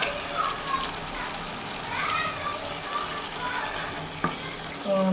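Pangas fish pieces dropped one by one into spice paste frying in a pan, giving a steady close sizzle with faint stirring clinks and a sharp knock near the end, with a voice speaking over it.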